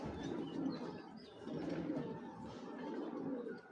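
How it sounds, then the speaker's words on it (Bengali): A pair of army pigeons, a cock and a hen on a breeding farm, coo repeatedly in low, throaty rolling phrases close to the microphone, with faint chirps in the background and no talking. "এখন এক জোড়া আর্মি কবুতর দেখতে পারতেছেন"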